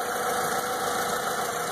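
A car engine idles after an oil change from mineral to synthetic oil, a steady close mechanical hum with faint ticking throughout and no voices.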